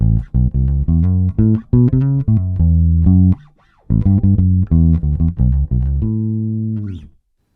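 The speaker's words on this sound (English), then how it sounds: "The bass on its own sounds like this." An electric jazz bass, both pickups on full with no EQ, plays a busy, punchy riff of clean, deep notes, loud and close, pausing briefly midway before continuing and letting the last note ring.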